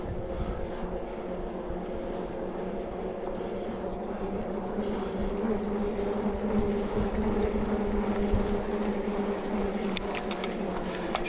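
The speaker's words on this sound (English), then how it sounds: "Motor is incredibly quiet. I can hear it, but not very much. So I'll let you listen here" Urtopia Carbon Joy carbon e-bike under way, its hub motor giving a soft, steady whir over continuous road and wind rumble, low and even throughout with no voices.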